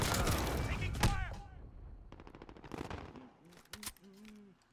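Gunfire in Call of Duty: Modern Warfare, rapid automatic bursts and scattered shots from the game, mixed with voices talking over the action.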